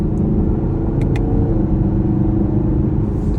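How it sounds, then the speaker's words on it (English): A 2021 Camaro SS cruises near 70 mph, its engine giving a steady low, smooth drone with road rumble heard from inside the cabin, loud and unbroken apart from a couple of faint clicks. "Car is incredibly smooth as we approach 70 here."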